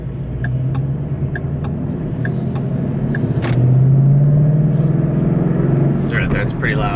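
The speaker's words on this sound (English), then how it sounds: "definitely engine noise, that's something you're going to have to learn to deal with when you're getting up to speed at" Engine of a 2013 Ford Mustang GT CS heard from inside the cabin, a steady loud low rumble that swells around the middle as revs climb, with a person talking over it throughout.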